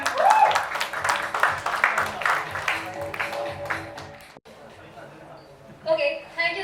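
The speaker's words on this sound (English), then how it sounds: "A round of applause for them." Audience applause at a Shah Rukh Khan fan awards event, a crowd clapping as people come on stage, loud at first and tapering off, with voices and noise mixed in.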